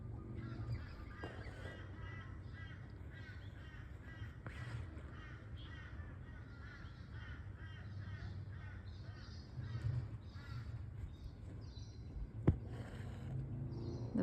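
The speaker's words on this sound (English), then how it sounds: "The bird song's really beautiful." Birds calling outdoors, repeated harsh crow-like caws and chirps at a moderate distance over a steady background hiss, with no talking.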